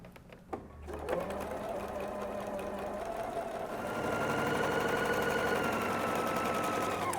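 A sewing machine stitches a drawstring casing on a dress bodice, starting with a few clicks and then a steady, fast mechanical whir that runs on without pause and gets a little louder toward the end.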